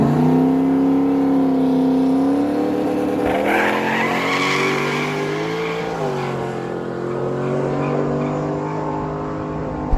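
Drag race cars making a pass at the Miramichi no-prep dragway, a loud engine roar rising in pitch through the gears with a tire squeal, then fading as the car pulls away.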